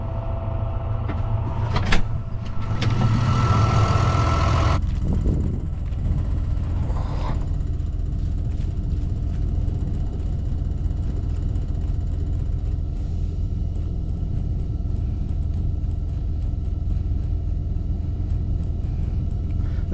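A farm tractor used for sowing timothy idles with a constant low rumble, while a door or hatch clatters and slides open near the start before the steady engine drone continues alone.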